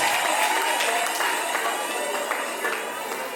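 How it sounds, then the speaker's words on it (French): Wedding guests at a Gabonese civil wedding applaud steadily, a dense wash of many hands clapping, fairly close and sustained, fading slightly toward the end. "On peut l'applaudir, c'est la bonne réponse."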